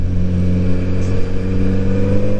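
A 2022 Kawasaki Z900RS motorcycle engine runs close and loud with a steady, even drone, holding roughly level throughout with no voices over it.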